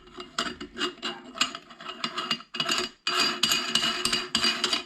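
Metal scraping and clinking come up close as a nut is threaded onto the coarse plate of a meat grinder in a kitchen, with irregular rasping turns and short taps.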